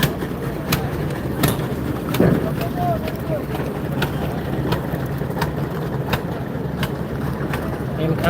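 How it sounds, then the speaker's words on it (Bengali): A large passenger launch ferry at Barishal maneuvering in reverse gear gives a loud, steady low engine rumble with wind buffeting the microphone and periodic sharp knocks, while a person talks over it nearby. "ঘুরাচ্ছে মানে ব্যাক গিয়ার দিয়ে ঘুরা ঘুরিয়ে ফেলতেছে লঞ্চ"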